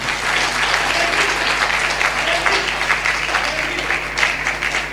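A church congregation applauds during a Punjabi Christian sermon, dense continuous clapping from a large crowd, loud and sustained throughout with a faint hum underneath.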